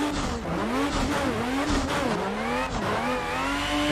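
A BMW E36 competition race car in a driving game revs hard through repeated upshifts at a drift track, its engine note climbing and dropping with each gear change in a loud, continuous run.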